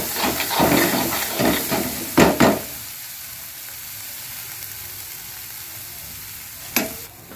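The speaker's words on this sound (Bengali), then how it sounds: "এবার আমি এটাকে একটু নেড়ে চেড়ে জলটা শুকিয়ে নিয়েছি" Green pea filling stirred and dried in a pan, with a steady frying hiss and several scraping strokes early on, then a quieter simmer broken by one more scrape near the end.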